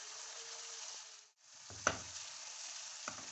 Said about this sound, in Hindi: अब हम इसमें ये लहसुन अदरक डालेंगे और इसको भी भूनेंगे।